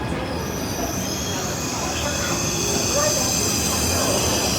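A train rolls into a station in rural China with high-pitched squealing wheels and rumbling, continuous and fairly loud, with faint voices in the background.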